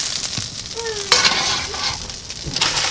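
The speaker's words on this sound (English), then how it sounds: "going to add more fat into your rice cauliflower" Cauliflower rice fries in a pan with added fat, giving a steady close sizzle with stirring scrapes and a louder burst of hiss partway through.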